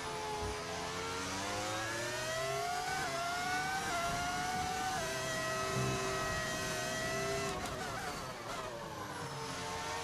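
An F1 car engine from the F1 25 video game screams loudly, its pitch rising and falling through gear shifts in continuous high-revving passes.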